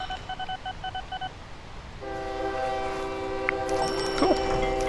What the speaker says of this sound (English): That's just a train hauling that in.